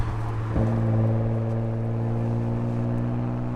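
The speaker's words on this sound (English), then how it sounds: "this is a Porsche Macan SUV with just the exhaust is just modified" Porsche Macan SUV with a straight-pipe exhaust and muffler delete, driving on a mountain road, giving a steady low droning exhaust tone with a brief thump near the start, then a sustained even hum.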